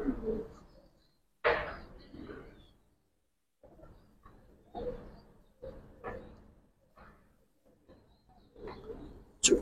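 A female Giribaz pigeon at the loft gives soft intermittent coos and rustles, close and faint, alongside quiet talking.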